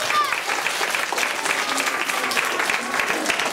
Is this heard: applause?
yes